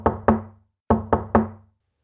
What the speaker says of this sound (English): She knocked.